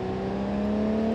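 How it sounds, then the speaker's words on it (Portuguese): In the BeamNG.drive game, an ETK car engine accelerates with a steady, rising tonal whine, loud and close, in a brief continuous burst. "O ETK, acelera, fi, acelera."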